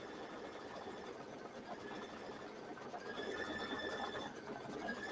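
An embroidery machine stitches an appliqué snowflake design, a steady, faint mechanical whir with a quick repeating needle rhythm that runs unbroken throughout.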